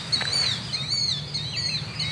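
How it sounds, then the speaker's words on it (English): Garden birds chirp and tweet in high, bright repeated calls over steady outdoor background noise, fairly close, with no talking. "birds, hi."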